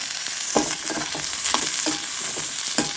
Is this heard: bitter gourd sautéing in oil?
yes